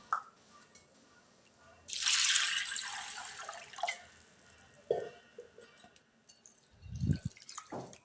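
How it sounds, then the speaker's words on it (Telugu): Soaked chana dal being rinsed in water, with a burst of running, splashing water near the mic, then brief drips and a few soft bumps and sloshes. "వీటిని కడిగి నానబెట్టేసుకుందాం, పక్కన పెట్టుకుందాం నానబెట్టి."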